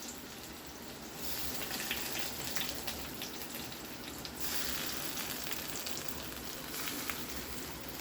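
Onions sautéing in a hot pan, a steady, loud crackling sizzle that continues throughout with no talking, occasionally swelling as the pieces are stirred.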